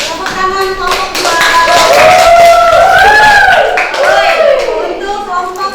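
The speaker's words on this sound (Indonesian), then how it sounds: "Tepuk tangan kelompok 2." A classroom of students claps for a presenting group, brisk hand clapping mixed with loud overlapping voices and a singing or chanting tone rising over the noise.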